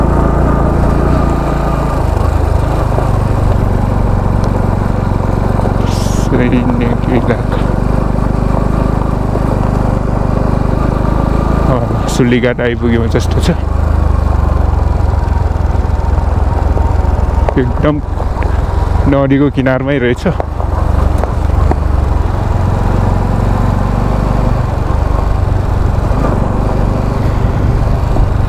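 A motorbike ridden along a trail near the riverside at Sulighat in Dolpa, its engine droning loudly and steadily throughout, with someone talking over it.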